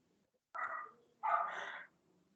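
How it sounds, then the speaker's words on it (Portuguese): A neighbour's dog barks twice in a quiet room, two clear, fairly close woofs about half a second apart with silence around them. "um cachorro latindo aí"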